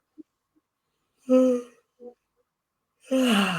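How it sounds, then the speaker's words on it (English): Several people yawning in turn during a group relaxation session, drawn-out voiced exhalations separated by quiet pauses, with a small breathy sound between them. "So people have already started yawning."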